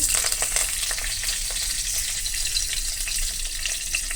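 Garlic and whole cumin seeds crackle in hot oil, starting loud and close then settling into a dense, even sizzle with scattered pops, no one speaking.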